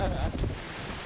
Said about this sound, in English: the Columbia River is famous for wind